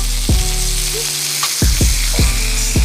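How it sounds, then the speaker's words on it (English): Shrimp frying in coconut oil gives a loud, steady sizzle close up, broken by several low knocks and scrapes as the pan is handled, with no talking. "Shrimp is getting ready with some coconut oil."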